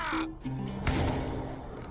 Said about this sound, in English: I can hear the gulls mocking me